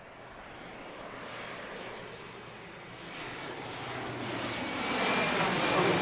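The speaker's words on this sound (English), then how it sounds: "here comes the Delta connection flight" Delta Connection regional airliner arriving at Pittsburgh International Airport, a steady broadband engine roar that swells gradually louder as it approaches, with no talking.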